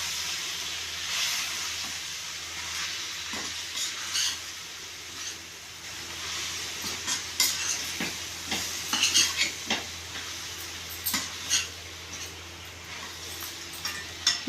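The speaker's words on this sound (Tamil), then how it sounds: "கொஞ்சம் சிம்மில் வச்சு கிண்டிக்குவோம்." Coriander and chili powder being stirred on low heat in a pan for bitter gourd curry, a faint steady sizzle with soft irregular scraping taps of the spoon against the pan, no talk.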